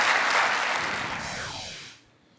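Brief burst of audience applause at an entrepreneurship award ceremony, a dense wash of clapping that holds steady for about two seconds and then quickly fades out.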